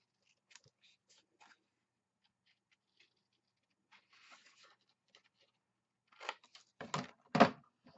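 Scissors cutting a small square off the ends of heavy cardstock for a mini album, a few faint snips early on, then several louder, crisp cuts close by near the end, with near silence between.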